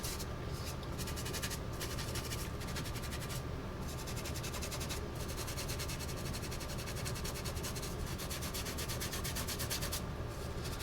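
Rough, unsanded wood with laser-engraved lettering being scrubbed by hand: a steady, dense abrasive rubbing that runs continuously and close, faint overall.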